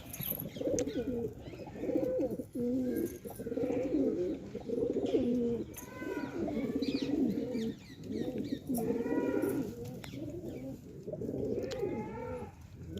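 Pigeons in a breeding loft coo continuously in rich, throaty rolling bursts, several birds overlapping up close and fairly loud, with brief pauses between phrases.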